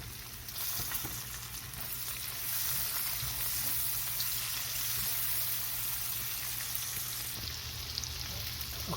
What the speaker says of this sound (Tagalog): gisa pa lamang po sa mantika at butter, margarine ay mabango na po